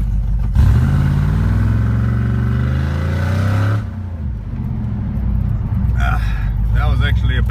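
A custom 2009 Chevy Colorado with a 5.3 Vortec engine and traction control off revs hard, its loud engine note climbing steadily for about three seconds before dropping to a rough idle rumble, with a voice speaking near the end.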